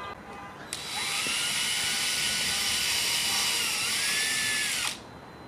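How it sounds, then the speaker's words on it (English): A power drill with a 7/64 bit pre-drills a hole in wood for a garden trellis, whirring in one steady high-pitched run of about four seconds, close and loud, then stopping. "I'm gonna use the 7/64 bit to pre-drill the hole."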